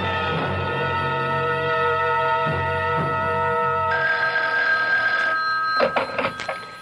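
A telephone rings in a radio mystery drama, a sustained bell tone with steady harmonic ringing, loud and close, ending with clicks as the receiver is handled.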